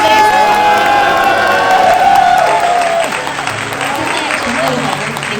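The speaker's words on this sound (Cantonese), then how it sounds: "有冇多啲歡呼聲送俾？" Wedding party guests in a Hong Kong banquet hall cheer and applaud in a steady, loud wash of clapping and voices, easing slightly after a few seconds as the crowd noise continues.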